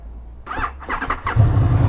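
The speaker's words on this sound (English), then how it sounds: "That starter motor doesn't sound right at all. It sounds like it's getting stuck." A Honda VFR800FE motorcycle's sticking starter motor whirs and stutters unevenly in several short bursts, catching and hesitating, before a low engine rumble rises at the end.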